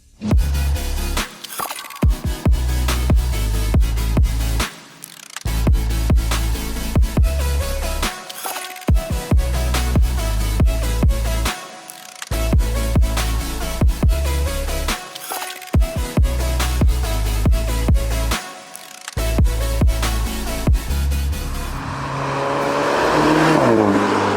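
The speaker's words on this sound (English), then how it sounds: "when you use the launch control, it gets a little bit more RPMs, a little bit more preload" An all-wheel drive car using launch control revs hard through several repeated acceleration runs, loud and close, each climbing whine cut off by a brief gap before the next, ending in a fading whoosh.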